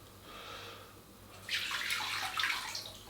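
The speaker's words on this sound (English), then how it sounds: "To that, we will add all their stock." Porcini mushroom stock pours into a pot for bacon and barley broth, a soft trickle first, then a louder, splashing gush close by.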